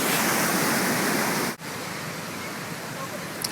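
The Lester River in flood rushes with a loud, dense roar of churning water, a continuous broadband wash that dips briefly, then carries on slightly quieter, with no clear speech over it.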